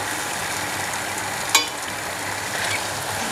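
Bambalouni dough frying in a deep pan of hot oil, a continuous close sizzle with one sharp pop partway through and a slight swell near the end.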